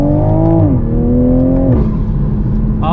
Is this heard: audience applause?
no